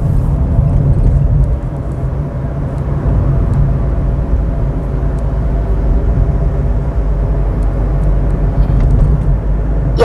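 A car accelerating in the third lane on a road during a driving test, a steady low engine drone and road rumble continuing evenly throughout with no speech.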